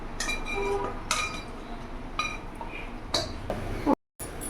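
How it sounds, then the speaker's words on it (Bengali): A metal kadai is set down on a kitchen stove, giving a few sharp clinks and knocks of metal against the burner. Several brief impacts are spread across the moment, close by, over a steady low kitchen hiss. "আমি কড়াইটা বসিয়ে দিলাম।"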